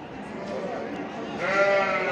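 Lambs and sheep bleat at a busy small-livestock market in Çorum, several wavering calls rising over crowd murmur, with a louder close bleat near the end.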